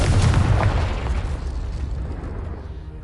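A Confringo blasting spell explodes in Hogwarts Legacy on PS5, a loud booming burst that rolls on and slowly fades over about three seconds, with no talk over it.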